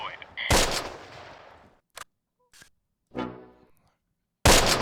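Tank cannon fire in the WW2 strategy game Close Combat: sharp booming shots with long decaying rumble, a couple of brief smaller cracks between, then another loud blast at the end.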